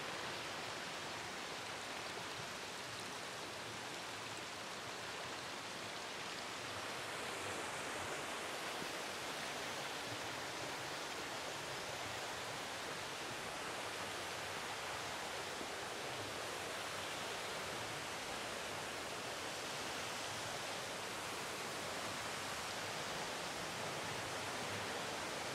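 A forest creek flows steadily under a small bridge, a broad, constant rush of running water that stays even and fairly close throughout.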